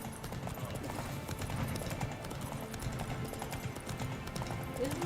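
Horse hooves clip-clop in a steady trotting rhythm in The Witcher 3 video game, moderately close and continuous, with faint background game sound and no speech.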